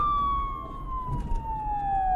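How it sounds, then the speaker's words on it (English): A police car siren wails steadily in a single slowly falling tone, moderately loud and clear with faint background noise and no speech. "Suddenly, outside, they hear the sound of a siren."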